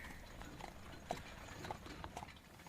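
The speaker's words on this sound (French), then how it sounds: "On entend aussi des villageois qui viennent chercher du bois à faire sécher pour l'hiver sur une charrette à l'ancienne," Horses drawing an old-fashioned wooden cart loaded with firewood in a village, with faint, distant hoof clip-clops and soft cart noise under a quiet outdoor background.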